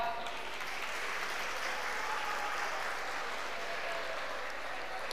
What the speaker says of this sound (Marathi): आणि मग तुम्ही पुन्हा एकदा जोरदार टाळ्या वाजवा.